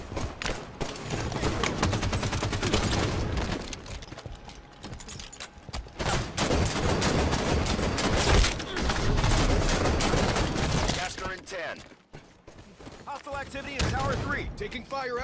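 Dense gunfire from the Halo 5 video game in a Team Slayer match on the Empire map: rapid bursts and heavy shots crowding one another almost nonstop, loud and close, easing off near the end with game voice callouts.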